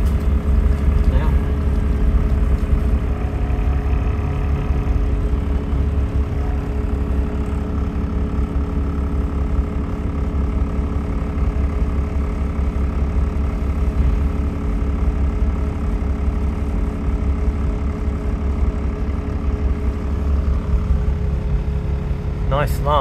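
Steady low engine drone and rumble from inside a Nottingham City Transport double-decker bus on route 41 of the Blue Line, heard continuously with a faint higher whine, and brief light clicks near the end.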